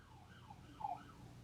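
A police siren wails faintly in the distance with rising and falling tones, soft and steady with no speech over it.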